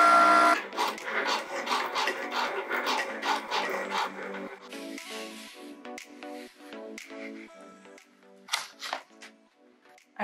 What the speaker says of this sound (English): I'm going to just press the little flashing Cricut button here, and it will cut our stencil